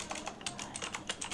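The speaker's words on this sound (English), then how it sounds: "Sorry, I'm typing in here." Rapid typing on a computer keyboard, a steady close run of light clicky keystrokes with irregular rhythm, no voices.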